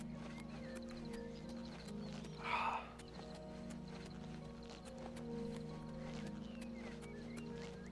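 A horse in the video game Oblivion Remaster clip-clops steadily at moderate distance over a low droning game soundscape, with a brief louder rustle partway through.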